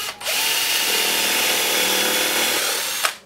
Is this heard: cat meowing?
no